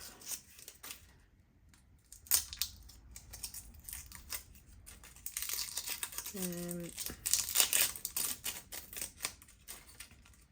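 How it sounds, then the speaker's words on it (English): An onion is peeled by hand in a home kitchen, giving close, papery crinkling and tearing of the dry skin, with soft rustles and a short tonal beep in the middle and no talk. "I'm just peeling an onion while I let the mince on the hob heat up"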